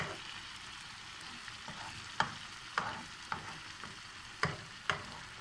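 Egg frying in a pan, a steady soft sizzle with scattered sharp scraping clicks of a utensil against the pan, fairly quiet and close, with no voices.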